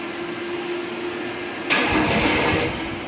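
A steady mechanical hum, then a sudden louder burst as a neglected Jacobsen mower's engine, cranked on a half-dead jump pack after glow plugs, catches and keeps running with a rough, noisy roar.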